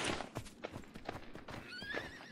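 A horse in Myth of Empires snorts and whinnies with a rising, wavering neigh near the end, while hooves clop in a steady rhythm close by.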